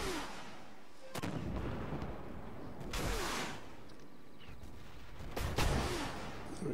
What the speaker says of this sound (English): I'm firing missiles now.